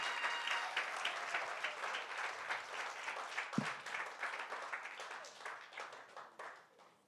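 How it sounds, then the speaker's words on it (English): Sustained applause from an audience at a women's awards breakfast, a dense wash of many hands clapping steadily for about seven seconds before tapering off slightly at the end. "I think we can give her another round of applause."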